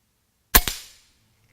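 A Condor SS .25 caliber air rifle fires, one sharp close crack followed quickly by a second impact-like snap and a short fading tail, alone against silence.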